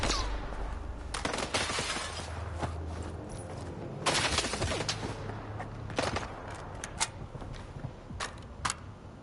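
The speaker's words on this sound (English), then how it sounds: "Who's shooting?" Bursts of gunfire in the shooter game S.T.A.L.K.E.R. 2: Heart of Chornobyl on PS5, sharp repeated shots in irregular clusters, some rapid volleys, fairly loud with no talking.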